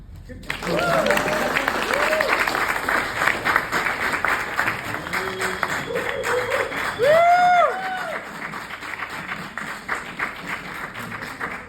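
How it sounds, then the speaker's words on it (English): Audience applause for a candidate at a Democratic State Senate District 37 candidate forum in Irvine, a steady burst of clapping lasting about ten seconds with whoops and cheers rising through it, close and loud. "Let's have a big applause for Alex Mohajer."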